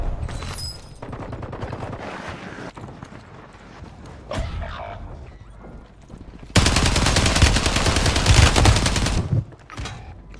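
Rapid bursts of gunfire from a shooter video game, with dense sustained volleys and a loud, long stretch of automatic fire toward the end over a steady game background.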